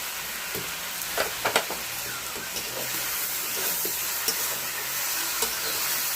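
Drumstick curry vegetables with cumin, turmeric and salt fry in a pan, giving a soft, steady sizzle and hiss broken by occasional stirring clinks.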